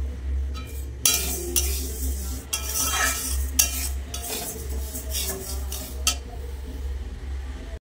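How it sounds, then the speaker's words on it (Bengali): Dal fries in a pan for khichuri while a metal spoon stirs, giving a steady close sizzle with repeated scraping and clinking strokes against the pan and a low hum beneath. "এদিকে ডালটা ভেজে নিচ্ছি"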